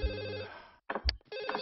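A telephone rings in the life-simulation video game The Sims, giving two electronic bursts of ringing with a short gap between them. The ring is close and clear, with a brief game tone in between and no talk.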